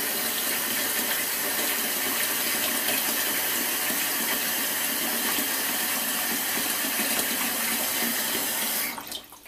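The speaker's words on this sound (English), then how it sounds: "So fill the pan as much as you can with water." Tap water gushes steadily into a pan being filled as much as possible for a Russian bean salad, a loud continuous close rush that stops abruptly near the end.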